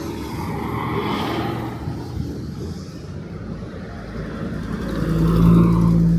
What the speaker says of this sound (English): Here goes a B-44 bus.